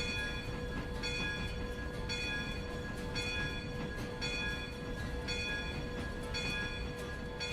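A train runs in the modded Railroader video game, a steady loud rumble of wheels and cars with a sustained tonal whine and periodic bursts of clanking repeating roughly every second, no voices.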